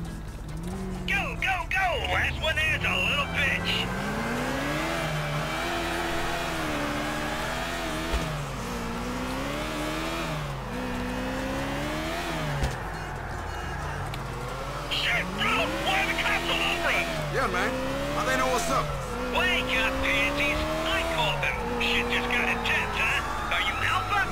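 Cars in GTA IV: The Ballad of Gay Tony during a race, engines revving up and down through repeated rising gear sweeps, with tire and mechanical noise and someone talking excitedly throughout.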